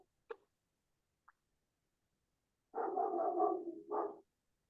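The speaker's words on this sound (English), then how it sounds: "Can you hear my dog?" A puppy indoors gives a few faint, brief clicks or yips, then a longer whining, growly vocalization of about a second and a half followed by a short second burst, close and moderately loud against silence.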